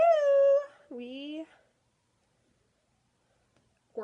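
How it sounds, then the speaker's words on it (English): A dog gives two drawn-out, tonal whining cries, the first long and steady and the second shorter and wavering, close and fairly loud, followed by silence and a brief sound at the very end. "My dog. If you hear him barking,"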